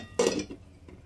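A pot of jaggery syrup for gur bundia being covered with a lid and set down in a home kitchen, one short clattering knock of metal on metal followed by a couple of faint lighter clinks.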